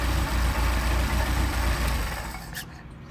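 Engine fitted with German Motorwerks Solex carburetors idling steadily at close range, a low rhythmic thrum that tapers off slightly near the end, with no talking.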